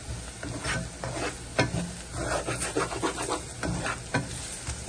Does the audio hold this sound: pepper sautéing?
yes